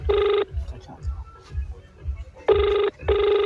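A telephone rings in loud electronic bursts, three clear rings separated by short pauses, over a low rumbling background.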